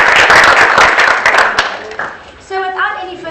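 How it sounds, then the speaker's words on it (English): Applause at a low-tech innovation prize-giving ceremony: a loud burst of crowd clapping that thins out after about a second and a half and fades, followed by a voice speaking. "I think that deserves a round of applause."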